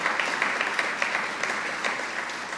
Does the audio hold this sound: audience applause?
yes